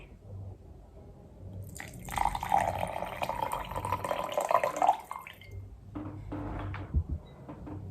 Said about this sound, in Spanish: El segundo paso es añadir un poco de agua encima de la miel.